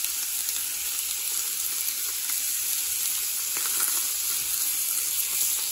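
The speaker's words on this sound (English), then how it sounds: "So I cook them 3 to 4 minutes on each side and then flip them over." Thin steak seasoned with steak spice fries in an oiled pan, giving a steady, close sizzle that stays even and unbroken throughout, with no voices.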